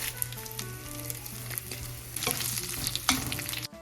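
Garlic and chiles de árbol sizzle and crackle steadily in hot oil up close, with occasional louder pops and a faint stir before it cuts off.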